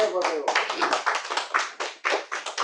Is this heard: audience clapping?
yes